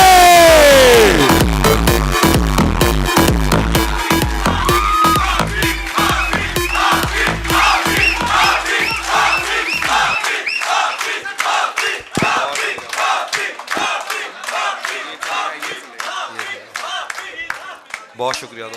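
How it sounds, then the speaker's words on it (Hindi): A mushaira audience in Faisalabad breaks into dense, sustained clapping and cheering for a poet. It starts over loud music and voices, then continues as crisp, close handclaps that slowly thin out. "आप सबकी भरपूर तालियों में तौसीफ हाफिज।"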